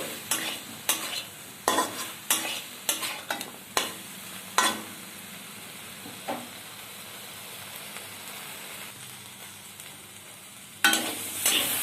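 Spices and vegetables stir-fried in a pan for a Bengali vegetable dish, with a run of sharp scraping stirs repeating every second or so over a low steady sizzle, then a quieter stretch and one more stir near the end.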